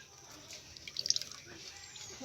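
Lemon juice strained through a sieve, dripping in a quick run of small splashes and drops, faint and close.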